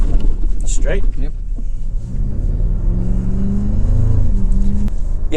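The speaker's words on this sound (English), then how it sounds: "in 4-low right now, so you can hear we've got you know, much shorter gearing as a result. So that's why we're getting high engine revs" 2024 Toyota Tacoma Trailhunter engine revving high in 4-low on an off-road trail, a rising whining drone over rumbling tire noise, loud and close, with people talking over it.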